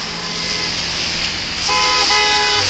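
Two car horns honking at once at a street vigil outside a community centre in Montréal: loud, close, sustained tones that overlap, with a second pitch joining partway through.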